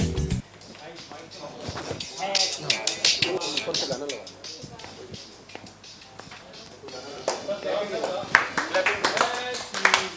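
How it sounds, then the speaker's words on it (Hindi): Audience clapping in a television studio during a Pakistani Independence Day broadcast, uneven bursts of hand claps mixed with voices and studio noise, rising and falling in intensity. "बहुत सारी तालियां"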